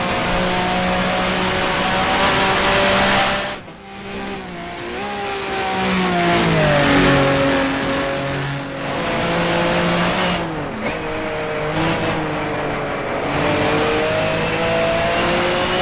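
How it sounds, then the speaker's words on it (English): A race car engine in the rFactor racing game revs and whines through gear changes, pitch rising and falling as it accelerates and brakes around a circuit, loud and continuous. "I'm just sitting here listening to the car to go through the circuit"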